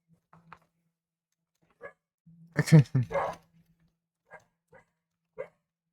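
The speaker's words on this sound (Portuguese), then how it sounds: "Ai, cachorrada, né?" Dogs barking in a Parasite Eve video game: a few faint yips, then a loud cluster of barks in the middle, followed by scattered short barks, with someone speaking nearby.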